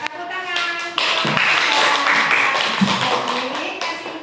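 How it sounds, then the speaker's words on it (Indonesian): Classroom clapping from schoolchildren during a science lesson on how sound travels through liquids, a dense burst of hand claps lasting several seconds under children's voices. "Tepuk tangan."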